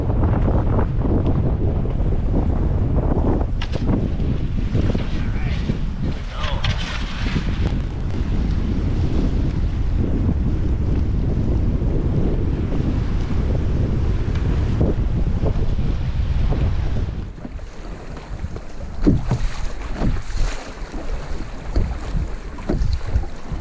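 Gusty wind roars across a lake during a canoe trip from Rock Lake to Clydegale Lake in Algonquin, a loud continuous rush that shifts and eases toward the end, with no talking.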